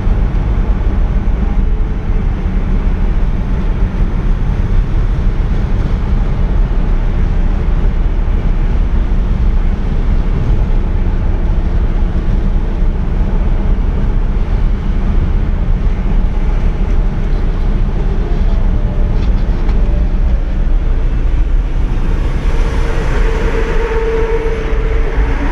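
A 1959 Chevrolet Bel Air cruising on Woodward, its engine a steady loud rumble under heavy road and wind noise, swelling slightly as it speeds up to pass another car.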